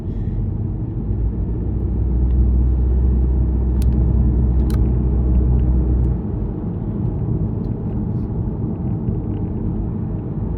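A car rumbles past on a street in Hot Springs, Arkansas and swings into a parking lot, a loud low engine and road roar that swells and then fades, with no talking.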